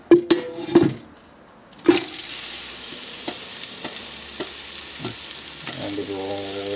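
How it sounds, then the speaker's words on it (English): Sliced onions hit hot ghee in a pan with a few loud clanks, then a steady close sizzle and frying hiss runs on, broken by occasional stirring knocks. "We will fry this in this ghee."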